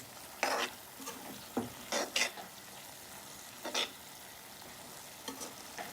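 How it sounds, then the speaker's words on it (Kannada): Capsicum goes into tomato puree frying in a pan for paneer butter masala. A ladle stirs it in a few separate scraping bursts over a quiet, steady sizzle. "ಟೊಮೆಟೊ ಪ್ಯೂರಿ ಅದು ಫ್ರೈ ಆಗೋಷ್ಟೊತ್ತಿಗೆ ಕ್ಯಾಪ್ಸಿಕಮ್ ಹಾಕ್ಬಿಡೋಣ"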